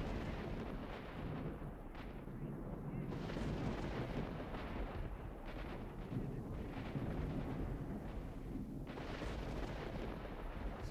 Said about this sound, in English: Someone shot at me, but I don't see him now.